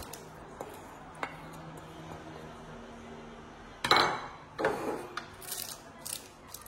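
Potatoes tumble into a cooking pot in a home kitchen, a cluster of clattering knocks and scrapes arriving after a quieter stretch of faint clinks and taps.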